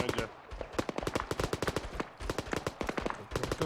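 Rapid bursts of gunfire from a gun in the video game Arma 3 crack in close, sharp repeated volleys with short gaps between strings of shots, fairly loud throughout.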